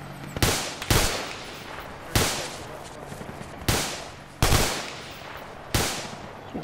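Gunfire in a video game, heavy machine gun included, comes as six loud, sharp bursts at roughly one-second gaps, each booming and trailing off into a noisy rumble.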